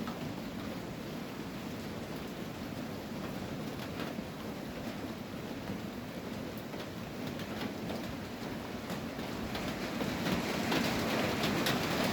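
Steady, dense hiss of rain falling continuously, with faint patter on surfaces, growing slightly louder near the end; no voices.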